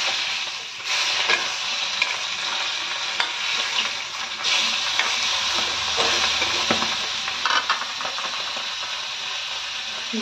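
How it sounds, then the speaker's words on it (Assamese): Two pieces of fish fry in a hot kadai, a steady close sizzle and hiss with occasional scraping and stirring clicks over about ten seconds, and no voices. "মই এয়া মাছ ভাজি আছোঁ দুপিছে ভাজিছোঁ"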